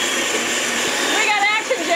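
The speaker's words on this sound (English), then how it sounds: "Pop that into your blender, put the lid on, and let's pulse it." A kitchen blender pulsing bread into breadcrumbs, a loud steady motor whir with chopping churn that shifts slightly in pitch toward the end, close to the microphone.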